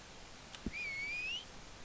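A single clear whistle in Red Dead Online, one sustained, slightly rising tone held for under a second, preceded by a soft click, over a quiet background.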